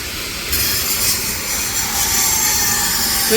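Workers cut stone at a site in Bangalore, one marking while another cuts, producing a continuous loud grinding, hissing roar that swells slightly partway through and holds steady for the whole stretch.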